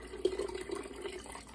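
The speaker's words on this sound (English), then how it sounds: "I'll just pour it in this one." Liquid pouring into a jar in a kitchen while making pickled eggs, a steady faint trickle with small splashes, close and alone for about a second and a half.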